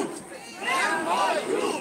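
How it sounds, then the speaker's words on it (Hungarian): A protest crowd fills downtown Eger, Hungary, with chanting and shouting voices rising and swelling together, loud and close. "Eger belvárosában özönlött a tömeg."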